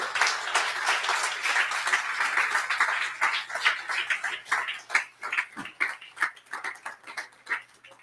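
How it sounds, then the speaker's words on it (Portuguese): Church congregation clapping in applause, a dense patter of many hands that thins into scattered individual claps toward the end. "Dê um aplauso a Jesus."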